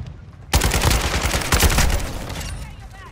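Rapid automatic gunfire in Call of Duty: Modern Warfare II erupts suddenly and loud, a dense rattling burst followed by a second surge before fading into echoing tails.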